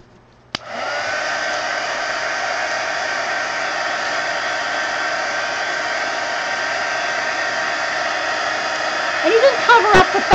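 A hair dryer switches on with a click and blows a steady, loud whooshing roar to dry a painted art journal page, running unbroken with slight handling noise near the end.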